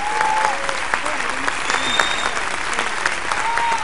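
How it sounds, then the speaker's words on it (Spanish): Steady applause from a comedy festival audience for Mario, broad and sustained throughout, with faint voices and whistles rising above the clapping. "un aplauso para Mario, que es muy generoso"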